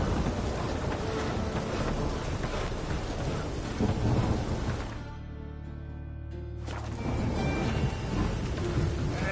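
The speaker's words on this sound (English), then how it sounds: "It's raining again." Steady rain with rumbling thunder in The Witcher 3: Wild Hunt, a dense continuous wash that briefly thins and deepens into a low rolling rumble midway before the downpour returns at full strength.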